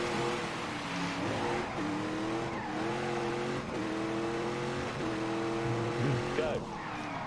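Race car lapping a circuit in The Grand Tour Game, engine droning steadily throughout with pitch rising and falling through gear changes and brief tire squeals near the end, loud and close under quiet talk.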